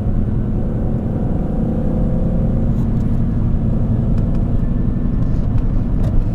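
Steady road and tire roar from an R53 Mini Cooper cruising at highway speed, heard from inside the cabin with a constant low rumble that stays loud and even throughout, with no talking.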